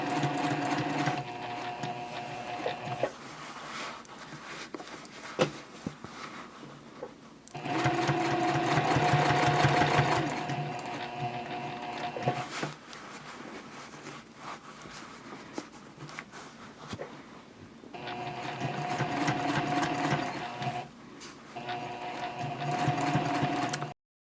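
A sewing machine stitches in the ditch along a seam of a fabric basket at a 3.0 stitch length, running in steady bursts with brief pauses between them.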